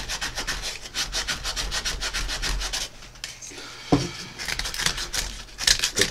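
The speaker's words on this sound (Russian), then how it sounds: "сейчас я это шлифую" Rapid rhythmic rasping of sandpaper rubbing over a carved wooden spoon, quick back-and-forth strokes, close and steady, with brief pauses and a light knock.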